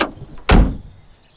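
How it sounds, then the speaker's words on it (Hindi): A door is shut hard in a comedy film scene, one loud heavy slam with a short ringing decay, standing alone with no talk. "हाँ पहले दरवाजा ढंग से बंद करो।"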